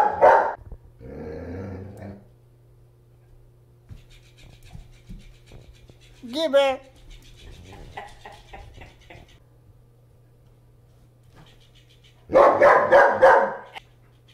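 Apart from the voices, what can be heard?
German Shepherd dog barking at a floppy fish toy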